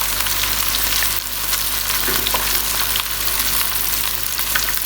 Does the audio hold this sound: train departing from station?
no